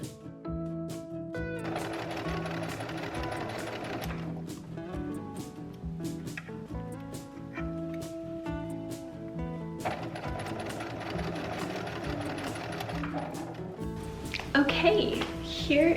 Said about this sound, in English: then sewed it on right sides together